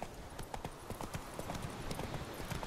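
The horse Roach in The Witcher 3: Wild Hunt walks with steady, close hoof clip-clops in an even rhythm over a continuous noisy game backdrop.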